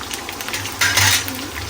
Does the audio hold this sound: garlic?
yes